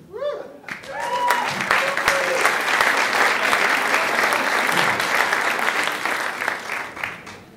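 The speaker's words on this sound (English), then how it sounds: "I would like to hear a round of applause even before they play." An audience claps for a harmonica orchestra before it plays in a German art society hall. Scattered claps and a few voices at the start quickly build into loud, dense applause, then thin out with some calls near the end.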